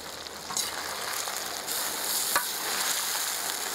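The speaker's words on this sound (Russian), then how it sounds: "Перемешиваем." Chicken drumsticks and potatoes fry in a new 12-litre kazan as they are stirred, giving a loud, continuous sizzle with brief scraping accents from the stirring.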